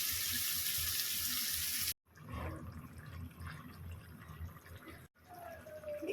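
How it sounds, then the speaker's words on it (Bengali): Hot water poured into paneer keema masala in a cooking pan, a steady rushing pour that cuts off, then gentler splashing and sizzling with a brief high whine near the end. "গরম জল।"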